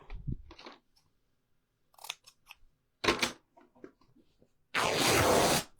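Scissors cut through fabric in short, close snips: a few brief crisp cuts with pauses between, ending in a longer, louder slicing run through the material.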